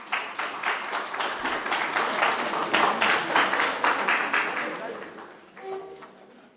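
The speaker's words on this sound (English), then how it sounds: "Can we give him another round of applause, please?" An audience claps after a formal presentation at a ministerial regional business engagement, steady broadband applause running throughout, fading near the end with a brief tonal sound.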